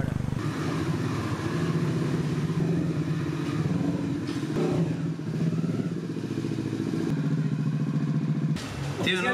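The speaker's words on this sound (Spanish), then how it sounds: "vamos a ver si mi primer viaje en la moto me dura más de media hora" A manual motorcycle rides through city traffic in Vietnam, its engine droning loud and steady throughout with shifts in pitch and clattering noise, and a sharp burst near the end.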